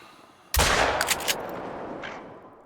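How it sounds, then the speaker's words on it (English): A hunting rifle fires once in theHunter: Call of the Wild, a sharp, loud crack that rolls out into a long echoing tail across open terrain, with no talk over it. "I'm gonna shoot that area and we'll see if something goes down"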